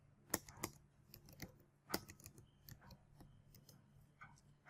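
Fingers tap on a computer keyboard in irregular bursts, with sharp, close clicks of varying loudness and short pauses between keystrokes over a quiet room background.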